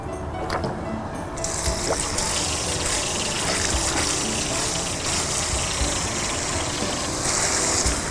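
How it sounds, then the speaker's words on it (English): Water rushing steadily through an RV dump hose during a rinse after dumping the grey tank, a continuous loud gushing and splashing that holds for several seconds with no talk. "now's a good time to rinse out your hose"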